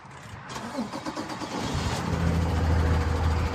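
A 2014 Kenworth T270 truck engine cranks and catches, settling into a steady, loud diesel idle that builds and holds close by after a brief quieter start.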